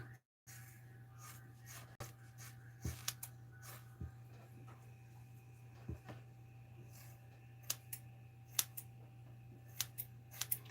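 Quiet snips and clicks of scissors scattered irregularly over a low steady hum, faint and close, with no talking.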